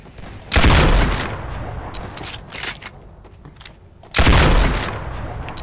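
Roblox gunfire in Ray's Mod: two heavy, loud bursts of shooting, each with a decaying tail, with lighter shots and scattered noise in the gap between them.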